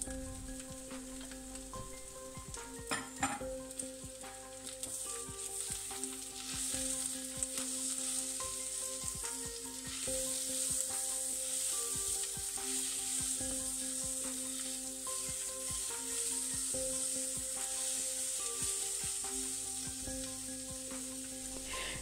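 Courgettes fry with melted onions in a pan, a steady dense sizzle that grows fuller after a brief clatter near the start, close and continuous with a faint hum underneath.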